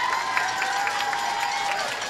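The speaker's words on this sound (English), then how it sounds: "So again, another round of applause for the choir." A small outdoor audience at a town Christmas tree lighting claps for a choir, a soft, even patter of hands that runs throughout, with a steady tone beneath it.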